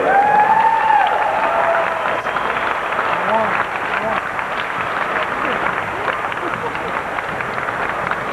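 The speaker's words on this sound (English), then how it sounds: "would you please give a great bit of applause for Hall of Famer, Mr. Ralph Chancey." Audience at a 2006 high school hall of fame induction ceremony applauding and cheering, a loud, sustained wash of clapping that fills the room, with voices mixed in.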